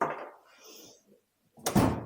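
A drawer in a workspace slides open with faint rustling, then shuts with a solid, close thunk near the end.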